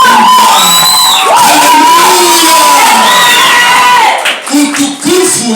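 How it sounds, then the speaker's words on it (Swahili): A church congregation claps and cheers for Jesus, loud crowd whoops and shouted voices over continuous clapping, rising and falling near the end, close and energetic throughout. "Pigia Yesu makofi."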